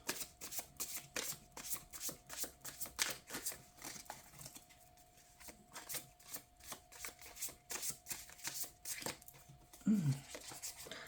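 A deck of tarot cards is shuffled close up in quick repeated riffles, a rhythmic papery flutter and slap running continuously with brief pauses between bursts.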